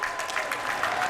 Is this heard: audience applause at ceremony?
yes